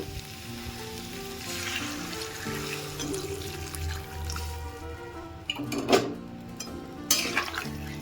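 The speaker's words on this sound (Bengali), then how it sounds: "আমি এর মধ্যে এখন ঢেলে দেব গরম জল" Hot water poured into fried spice paste for a Bengali vegetable rosha: a steady sizzle of frying with a few sharp clinks of a pot and utensil near the end, loud and close.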